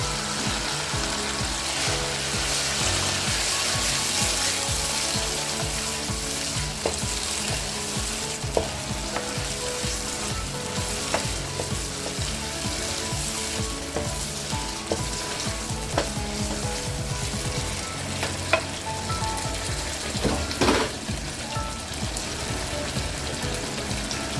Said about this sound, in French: Ensuite, nous allons ajouter nos tomates coupées.